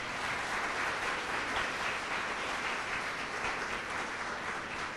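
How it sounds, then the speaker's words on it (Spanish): A congregation at a worship gathering gives a steady round of applause, heard quietly and at a distance as an even wash of clapping with no voices over it. "Denle un aplauso al Señor por esa palabra."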